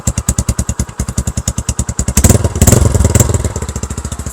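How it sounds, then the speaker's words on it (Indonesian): Classic motorcycle with a homemade bottle exhaust idling close by, a steady loud thumping putter that briefly swells and turns rougher as the throttle blips, then settles back. "Ini knalpot botol karya kita teman-teman, jadi suaranya itu hipu ya"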